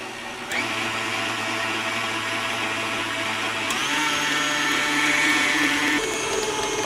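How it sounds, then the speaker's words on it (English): Electric mixer beating the liquid ingredients for pączki dough, a loud steady motor whine running continuously, shifting pitch slightly as the beaters work. "Now we're going to mix this up, and you beat it for about 2 minutes."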